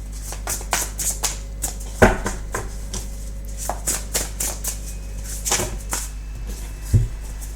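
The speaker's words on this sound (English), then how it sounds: "so let's split the pack, shuffle, and then see what happens then from there." A tarot card deck shuffled by hand, a run of crisp riffling slaps and taps in an irregular rhythm, close and clear with a low hum underneath.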